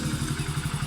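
A motorcycle engine runs close by with a steady, rapid throbbing putter and a little mechanical clatter.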